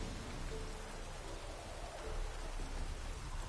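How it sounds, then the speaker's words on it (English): Steady, dense rain falls in The Witcher 3: Wild Hunt, a constant hiss and patter of drops with no break and no voices over it. "Alright, so it's raining again."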